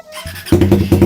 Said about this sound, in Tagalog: sound check na po natin yung ating JXP super open pipe